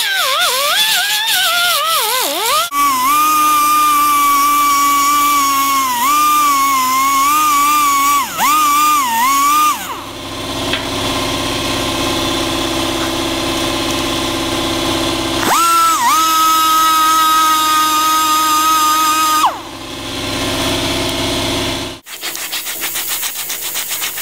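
Loud, close whine of a rotary power tool fitted with tapered cylinder-porting bits, smoothing lead on an old-school lead sled car body; the pitch wavers as the bit bites and eases, with brief pauses and restarts and no talk.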